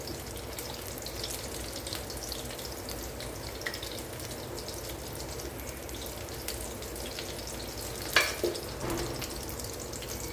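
Sweet vada made from leftover karadai batter frying in hot oil, a steady low crackling sizzle throughout with one brief clatter of a utensil partway through.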